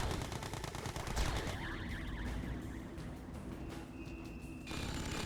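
Sentry gun firing in Red Alert 2: Yuri's Revenge, rapid repeated gunfire over a dense, loud battle din with other game effects layered throughout.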